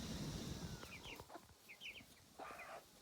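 A flock of chickens clucks faintly in a few short bursts over a quiet outdoor background.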